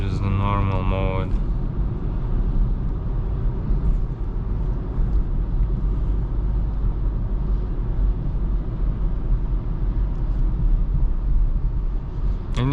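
Steady low engine and road rumble inside a 2026 Kia Sportage 1.6 T-GDI AWD with 180 hp, cruising in normal drive mode in daytime; a voice talks briefly at the start, then a continuous even cabin drone.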